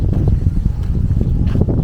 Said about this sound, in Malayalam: കാറ്റ്, നല്ല കാറ്റ്, നല്ല തണുപ്പും